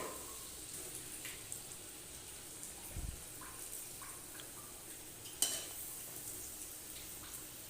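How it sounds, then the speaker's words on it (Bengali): Masoor dal fritters fry in hot oil with a faint, continuous sizzle, broken by a low thump and a single sharp clink of utensil against the pan. "আস্তে আস্তে এইভাবে ভেজে নিচ্ছি বড়াগুলোকে।"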